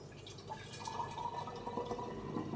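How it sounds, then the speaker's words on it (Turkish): Coffee poured from a glass jar at home, a soft, steady liquid trickle and splash lasting a couple of seconds, fairly quiet against low room noise. "Şimdi bir kere bunu kavanozdan dökerken biraz üstüme dökeceğim"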